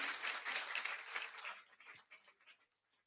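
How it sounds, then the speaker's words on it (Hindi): Applause from an audience welcoming a naib tehsildar guest at a coaching academy event honoring CGPSC 2023 toppers: dense clapping that thins out and stops near the end. "हमारे बीच है रविंद्र, नायब तहसीलदार, जोरदार तालियों से स्वागत करेंगे।"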